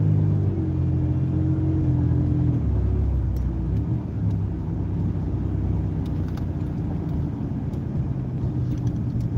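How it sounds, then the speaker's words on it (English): Car engine revving and rumbling steadily from inside the cabin during a beginner driving lesson as the gas pedal is pressed, a low continuous drone with shifting pitch that swells and settles, no talking. "Just gradually press the gas, but if you hit it too fast, the car will launch forward."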